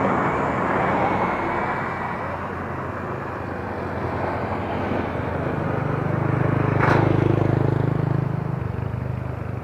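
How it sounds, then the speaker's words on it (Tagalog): A drone flies over a bridge by the SLEX highway in Alaminos, Laguna, giving a steady engine-like hum over broad traffic and wind noise that swells louder toward the end. "makikita natin kung hanggang saan ang mararating nitong drone"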